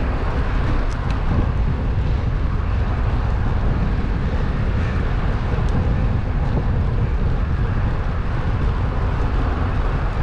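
Steady, heavy wind buffets the microphone of a cyclist riding straight into a headwind near George King Bridge, a dense low roar with no talking.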